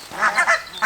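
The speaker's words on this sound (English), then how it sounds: "While we're waiting for these geese to clear off out the road" Geese on a road give a quick run of four nasal honks, close and loud, in an uneven rhythm.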